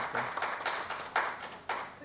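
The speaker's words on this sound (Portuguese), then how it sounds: "e é a Elaine Azevedo Maria, para quem eu peço uma salva de palmas" Audience applause at a university talk on student retention, a burst of scattered clapping rising in waves with a few louder peaks, close and steady for about two seconds.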